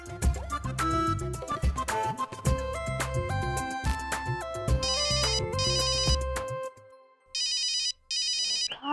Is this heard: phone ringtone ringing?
yes